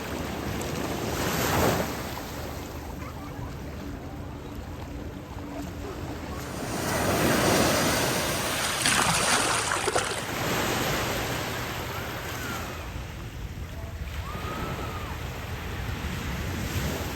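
Waves wash steadily onto a local beach at Puerto Vallarta, a loud continuous surf roar with swelling crests, mixed with wind buffeting the microphone and no talk.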